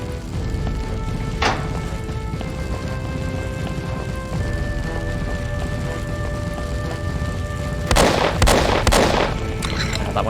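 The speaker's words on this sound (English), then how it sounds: "What happens if I shoot?" Gunfire in the 2007 FPS Creator game Robert D. Anderson & the Legend of Cthulhu: one sharp shot early, then a loud cluster of bangs near the end over a steady game background hum.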